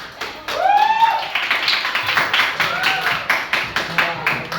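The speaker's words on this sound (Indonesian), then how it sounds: "Oke, tepuk tangan untuk kalian." High school students clapping together in a classroom at SMA Negeri 1 Pajangan, Bantul, a quick rhythmic patter of hand claps mixed with voices and a few whoops from the group.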